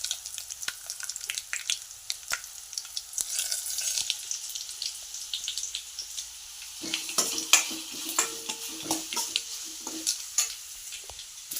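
Mustard seeds and curry leaves sizzle in hot oil in a kadai, a steady close crackle with scattered pops and spits, joined partway through by a louder stirring scrape and a brief clink, no talking.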